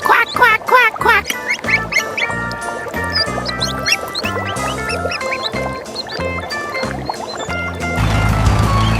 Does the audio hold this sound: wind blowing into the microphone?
no